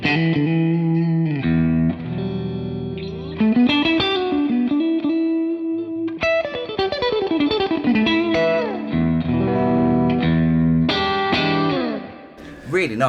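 An electric guitar plays a run of chords and single notes through a hand-wired Cornford Hellcat two-channel valve amp, its tone clear and ringing with some drive, up close and alone.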